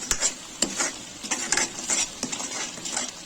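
Onion and tomato paste cooking in oil for palak paneer, with quick repeated spoon scrapes and clinks against the pan over a soft sizzle, close and fairly busy.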